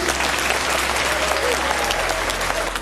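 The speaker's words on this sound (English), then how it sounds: "So big round of applause for Elise." Applause from a crowd at a UK convention, honouring an event organiser; a steady, dense wash of clapping that holds at an even, loud level throughout with a faint low hum underneath.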